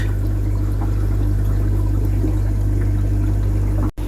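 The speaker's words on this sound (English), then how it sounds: "And it's just pouring out of here." Water gushes out of a broken boat pump in a steady, continuous rush over a low mechanical hum, close and loud throughout, with no voices.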